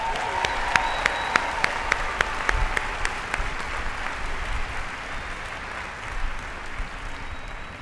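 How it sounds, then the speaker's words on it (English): An audience at a Montgomery College commencement applauds graduating students: dense, sustained clapping from a large crowd, with a few sharp near claps at the start, filling a hall and slowly easing off. "Let's give these students a round of applause"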